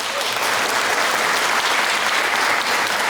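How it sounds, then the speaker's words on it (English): A large audience at a 2019 stage show applauds steadily and loudly, a dense wash of many hands clapping that holds for the whole stretch with no talk over it. "Another warm round of applause for Ontiverio."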